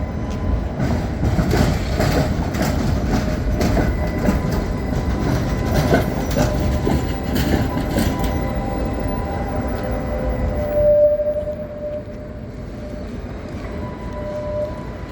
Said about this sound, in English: Here we have a Tatra going south down the northern street and skipping the connector to take a turn.